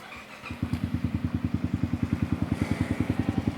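A 2020 Yamaha Xmax scooter fires up and settles into a steady, close idle, its single-cylinder engine thumping in an even, rapid pulse for several seconds.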